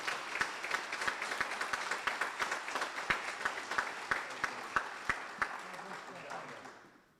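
Steady round of audience applause at a military awards dinner, with a distinct rhythmic clap standing out over the crowd's clapping before it fades away.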